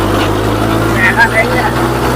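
A Kubota MU4501 tractor engine drones steadily under load at raised revs, a close, loud, even hum.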